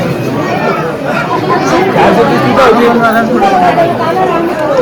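Dense crowd chatter from a large gathering of devotees at the Saptashrungi Devi temple, a steady loud babble of many overlapping voices close around.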